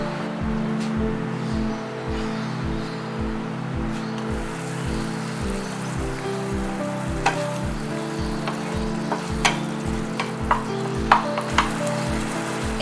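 Tomatoes fry in a covered pan with a soft continuous sizzle, accompanied by a steady low rhythmic thumping beat and a few light clicks, close and moderately quiet.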